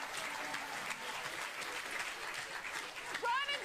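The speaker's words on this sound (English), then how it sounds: "round of applause." Studio audience applause on a rock music quiz show, a steady wash of clapping throughout, with a voice breaking in briefly near the end.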